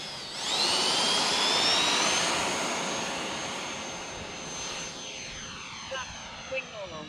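A Freewing F-14 twin 80mm EDF model jet with afterburner takes off from a runway: a loud rising turbine whine swells within the first second, holds strong, then thins and fades as the jet climbs away.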